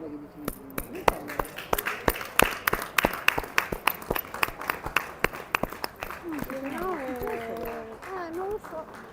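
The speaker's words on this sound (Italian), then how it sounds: "Un applauso" Scattered handclaps from a small group at an under-19 youth football match between Rovigo and Virtus Abano, sounding as sharp claps in an irregular rhythm with voices talking over them.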